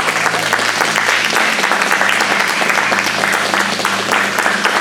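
A church congregation applauds together, a dense, steady wash of clapping that holds at full strength from start to finish, with a low sustained musical tone underneath.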